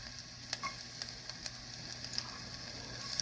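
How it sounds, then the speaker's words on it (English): Scallion whites sizzle quietly in heated oil in a small pan, a faint steady hiss broken by scattered light crackles and pops. "Got this oil heated up in this pan. We're going to add our scallion whites"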